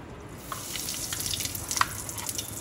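A pinch of asafoetida (hing) dropped into hot oil in a pan, before the stuffed okra goes in, gives a steady, close hiss of sizzling that swells and keeps crackling faintly.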